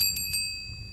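A small bicycle-style bell rung in two or three quick bright dings that fade out, close and clear, in a home with a new calf.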